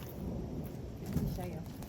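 Distant thunder rumbling from an approaching storm over a hydroponic garden, a low steady roll with a soft swell near the middle, fairly faint and outdoors.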